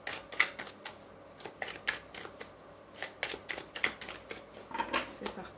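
Tarot cards cut and shuffled by hand, a series of quick papery riffles and slaps in bursts close by, with a quiet voice murmuring in the background.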